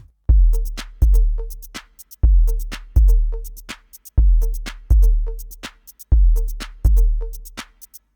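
KORG Volca drum machine pattern looping twice: booming kicks, sharp claps, ticking hi-hats and a pitched click, crisp and upfront with no voices.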